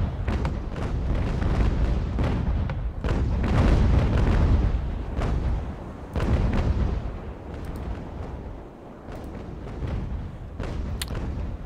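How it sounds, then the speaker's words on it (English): Broadside cannon volleys thunder from wooden sailing warships in an Ultimate Admiral: Age of Sail naval battle, a dense rolling barrage of booms with sharp cracks layered over a sustained low rumble, loud and continuous with no talk. "Pretty good first volley as far as bringing his sails down."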